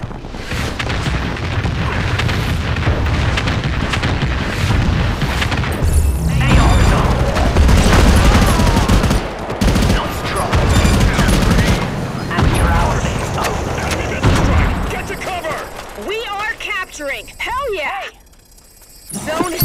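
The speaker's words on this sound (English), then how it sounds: "We have an enemy missile strike inbound!" Missile strike explosions boom heavily in the MCVS video game, with rattling gunfire bursts over loud, dense battle noise and game voices talking throughout, before the sound thins out near the end.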